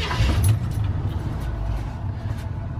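A 1970 Chevrolet K20 pickup truck engine idles steadily and smoothly, a continuous low rumble close by with a brief slight rise near the start, no voices.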